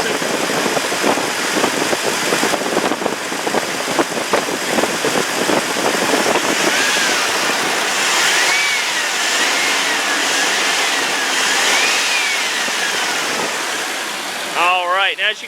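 A truck engine with an aftermarket air intake revs and roars loudly and steadily, close by, the noise rising and falling in pitch, with a short bit of talk at the very end.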